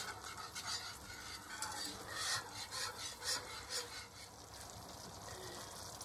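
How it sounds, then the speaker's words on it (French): Chicken being stirred in a pan with a spoon, giving repeated scraping and rubbing strokes over a soft sizzle of frying, close and moderately loud throughout with no talking. "Je remue le tout. Et je laisse cuire 2-3 minutes."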